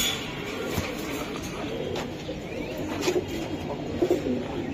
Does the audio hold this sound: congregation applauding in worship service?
no